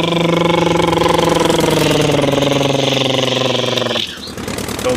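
A toy KTM motorbike gives out a loud, rapidly pulsing, buzzy engine-like tone at close range. The tone holds steady for about four seconds, then stops suddenly and gives way to quieter rustling.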